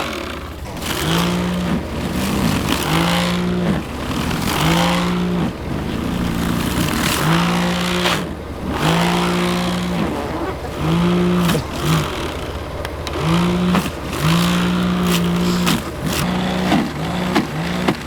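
Land Rover engine revving repeatedly while climbing in deep snow, loud rhythmic bursts of acceleration rising and falling every second or two, close to the microphone, with no talk.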